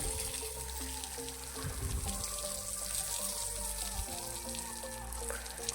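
Water sprayed from a hose pipe onto fresh house plaster beneath a window, a continuous splashing, hissing spray close by with a motor's steady hum underneath, no talking.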